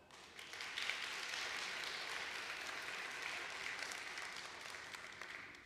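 A church congregation claps during a contemporary service, a steady, fairly faint wash of applause sustained without a break and heard from a distance.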